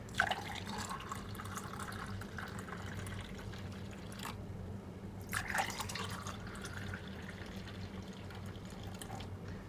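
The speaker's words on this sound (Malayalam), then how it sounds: "ഇനി നമുക്കിതിനെ സെർവിങ് ഗ്ലാസ്സിലോട്ട് മാറ്റാം" Fresh pineapple juice poured from a mixer jar into a serving glass, a steady close liquid stream with soft splashing and a brief louder gush midway.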